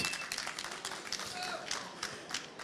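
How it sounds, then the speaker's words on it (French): An audience at a public live award ceremony claps in a steady, moderately distant patter, with voices talking over the applause throughout. "On va leur demander d'applaudir."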